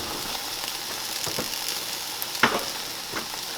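Food frying in a pan, a close continuous sizzle with a few light spatula taps and one sharper clink partway through, no voices.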